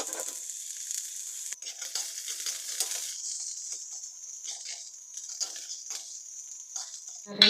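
Garlic frying in cooking oil in a pan for bagoong pasta gives a steady, bright sizzle close by, with faint stirring scrapes and no talking.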